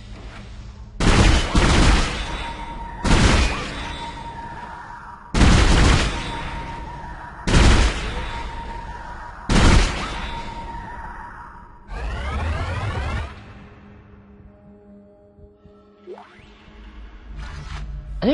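Gunfire in the video game Dead Space: loud, close single shots with long echoing tails, spaced about two seconds apart, followed by a rattling burst and quieter mechanical game sounds.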